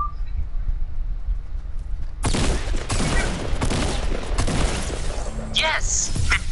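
Gunfire in a battle royale video game: after a quiet stretch, rapid bursts of shots break out and keep going, dense and close, while players talk over them.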